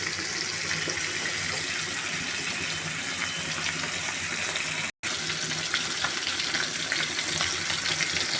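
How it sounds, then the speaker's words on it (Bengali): Tilapia fish frying in oil in a pan, a dense, even hiss of sizzling that holds steady at close range, broken by one very brief dropout midway. "এভাবে আমি সবগুলো মাছ ভেজে নেব।"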